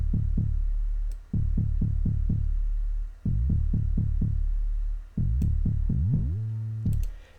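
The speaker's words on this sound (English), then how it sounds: "This one is actually a pluck from Fruity DX10" A pluck synth patch from Fruity DX10 in a gqom production, played as short, punchy low notes in rapid repeating bursts, ending in a gliding sustained tone.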